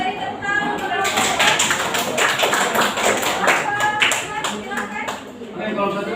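Classroom audience during a teaching-practice lesson gives a round of applause: brisk, uneven clapping from many hands close by, mixed with voices.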